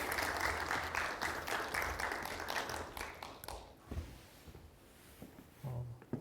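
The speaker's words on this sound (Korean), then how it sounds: "다시 한번 큰 박수 부탁드리겠습니다" An audience at an academic society's autumn conference breaks into a burst of dense clapping that gradually thins out and fades, leaving only a few scattered claps near the end.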